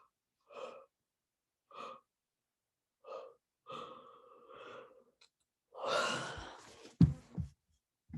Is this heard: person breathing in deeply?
yes